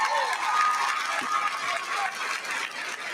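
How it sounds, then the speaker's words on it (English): A commencement crowd at Southern University and A&M College applauds and cheers in a large hall: a steady, moderately loud wash of clapping with some voices mixed in, holding for a few seconds. "Let's give her another round of applause."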